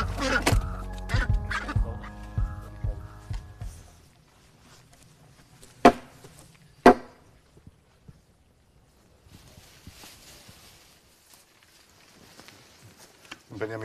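Two ducks squawk with a couple of sharp cries before slaughter, mixed with handling noises and background talk, then quieter rustling.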